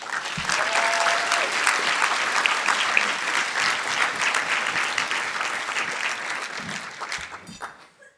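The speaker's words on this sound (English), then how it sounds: "So give yourselves a huge round of applause" Applause from an audience fills an awards gala, a dense, sustained clapping that holds steady for several seconds before tapering off near the end.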